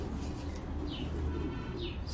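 Pigeon cooing at low volume, two soft rising-falling coos over a steady low background hum, with no voices present.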